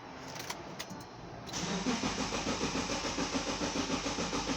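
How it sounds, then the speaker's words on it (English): A 2010 Subaru Liberty engine cranks steadily with the fast, even whirring pulses of the starter motor, but never catches. Before the cranking begins there are a few faint clicks, and it is close and fairly loud. "It cranks but doesn't fire."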